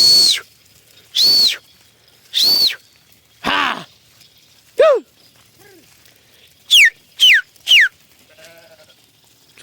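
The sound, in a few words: flock of sheep bleating while grazing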